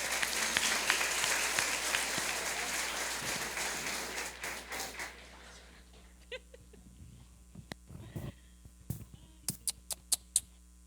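A church congregation at an Easter cantata service claps together in a dense, steady burst of applause, then fades to scattered taps and a few isolated claps.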